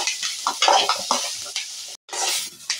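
Food frying and browning in a pan is stirred, crackling sizzle broken by scraping strokes in a quick irregular rhythm, close and moderately loud, with a brief gap near the end.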